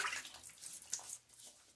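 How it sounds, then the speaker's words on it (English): Water splashed onto a face during a wet shave, using a Karve Chris Bradley razor, giving a few brief, close splashes and drips that quickly fade out. "Splash a little bit of face."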